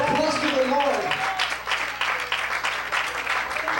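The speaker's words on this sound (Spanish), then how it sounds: "Give applause to the Lord." A church congregation at a Pentecostal service breaks into applause as a voice trails off at the start, then continuous clapping fills the room over a low sustained tone.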